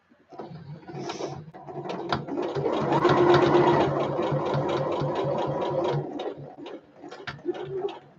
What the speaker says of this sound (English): So I'm just sewing up the ends now.